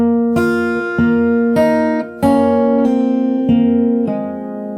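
Fingerstyle acoustic guitar plays a song phrase: six clear plucked notes and chords ring out one after another at an even, unhurried pace, then fade at the end.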